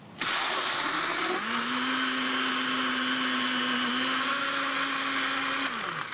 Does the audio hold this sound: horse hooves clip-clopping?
no